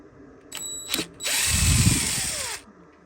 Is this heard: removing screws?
yes